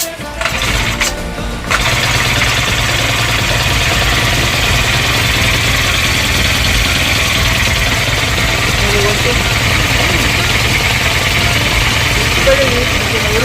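A Honda brush cutter engine starts up and runs at a steady, loud idle drone throughout, with people talking over it.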